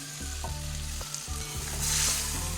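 Drumsticks and tomato sizzle in a pan of oil while fish curry is cooked, a steady close frying hiss with a few soft stirring clinks, no voices.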